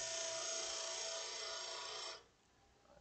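A wood lathe tool trims a turned ornament held in place by the tailstock, making a close, steady rasping cut for about two seconds before it abruptly stops.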